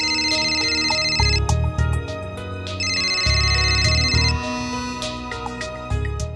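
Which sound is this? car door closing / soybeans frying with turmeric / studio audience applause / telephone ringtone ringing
telephone ringtone ringing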